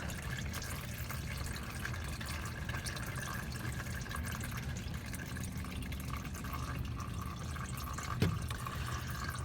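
Used engine oil from a 2013 Honda Odyssey draining out of an upturned oil filter, a steady faint trickle and drip against soft background hiss, with one brief knock near the end.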